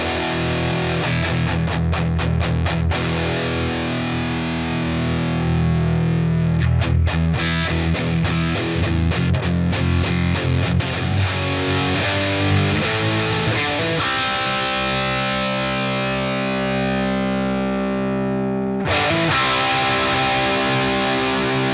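Electric guitar played through a Boss Katana 50 MkII amp on its lead distortion setting, dense sustained overdriven notes and chords ringing loud and continuous, with a brief cut near the end before the tone returns.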